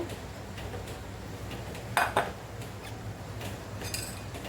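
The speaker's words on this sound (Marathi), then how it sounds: "आता ही पेस्ट आपल्याला एका भांड्यामध्ये काढून घ्यायची आहे" Green chilli and ginger paste scraped from a grinder jar into a bowl with a metal spoon, giving scattered light clinks and scrapes with one sharper double clatter near the middle, close and moderately loud.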